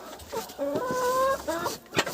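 A hen in a backyard flock gives a short run of clucks and a drawn-out tonal cackle, close and fairly loud, ending in a sharp final note.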